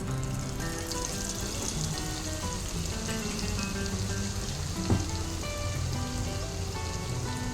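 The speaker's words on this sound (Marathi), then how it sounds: "आता याच्यामध्ये मी 1 टेबलस्पून ही मेथीची डाळ घालते" Split fenugreek seeds crackle and sizzle in hot oil for mango pickle, a steady dense frying hiss running throughout at close range with no talking.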